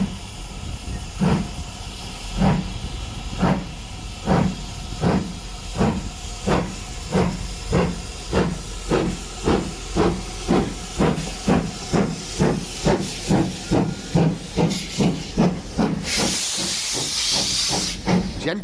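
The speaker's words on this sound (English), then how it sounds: "the arrival of British Railways Standard 5, hauling the 1007 service to Leicester North" British Railways Standard 5 steam locomotive 73156, built at Doncaster Works in 1956, arriving with a passenger train on the Great Central Railway, its exhaust chuffing in a steady, quickening rhythm over constant steam hiss, loud and close.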